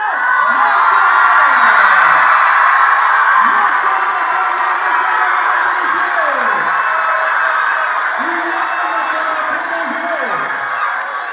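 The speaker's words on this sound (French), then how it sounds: "Je vous invite à applaudir très fort Patrick Oyono." A studio audience on a French-language television show cheers and applauds steadily for an introduced guest, a dense continuous crowd roar with whoops and shouts rising above it, loud and sustained throughout.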